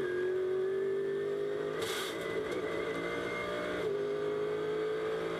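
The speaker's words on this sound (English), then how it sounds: "Danny Juncker, you're on board with the fastest car in the race at the fastest it has been driven." On-board engine note of the fastest car in the Spa 24 Hours at night, a sustained high-revving drone with a brief shift or lift near the middle before pulling again, loud and continuous.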